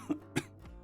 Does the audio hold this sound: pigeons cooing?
no